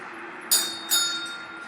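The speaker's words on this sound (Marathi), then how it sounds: "सईला घंटी वाजवायची बाबा." A small temple bell, rung by a child, gives two bright metallic strikes about half a second apart, each leaving a lingering shimmering ring, with faint voices and room noise in the background.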